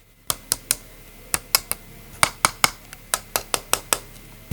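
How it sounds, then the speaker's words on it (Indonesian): A cheap plastic YongNuo 50mm F1.8 camera lens is tapped and handled, giving about sixteen crisp, hollow clicks in an uneven rhythm, close and clear against near silence. "Coba dengar suara lensa ini."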